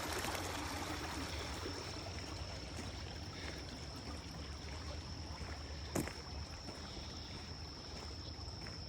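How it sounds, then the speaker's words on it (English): Steady flowing water in a stream running beside a rural driveway after a flood, a continuous close trickling rush with no talk, broken by one brief knock near the middle. "And we still got good water flowing through here."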